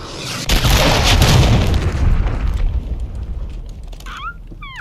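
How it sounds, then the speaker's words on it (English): A cruise missile blows up in the game Modern Warfare 3 with a deep, heavy boom that rolls out and slowly fades over several seconds, and faint whistles and clicks follow near the end. "Friendly cruise missile deployed."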